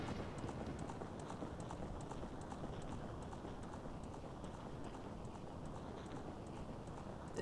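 Galloping horse in the video game Ocarina of Time, a steady rapid clip-clop of hooves running continuously and fairly loud, with faint high chiming game sounds over it.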